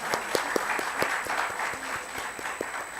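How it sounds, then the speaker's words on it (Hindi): An audience claps at the Bhopal Literature and Art Festival 2023 as the second day opens. The applause is soft and somewhat distant, with scattered distinct hand claps over a steady, even bed of clapping. "जोरदार तालियां प्लीज।"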